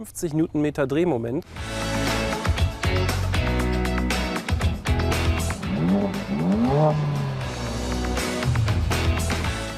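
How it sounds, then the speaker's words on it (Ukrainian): A Mercedes CLA 45 AMG's 2-litre, 360-horsepower four-cylinder engine revs hard and accelerates, its pitch rising through gear changes, loud and close with someone talking over it. "Нині я протестую автомобіль з найпотужнішим серійним чотирициліндровим двигуном, який є на ринку."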